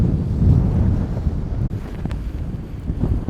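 Strong wind buffets the microphone at Goose Island State Park on Aransas Bay, Texas, a steady low roar with gusty swells and a brief dip midway, with no voices.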